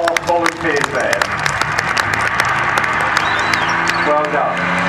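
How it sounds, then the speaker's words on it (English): An outdoor crowd at a tank display applauds volunteers with dense, continuous clapping that stays steady for several seconds, while a voice speaks over it. "Give them a round of applause, they've done very well for doing that."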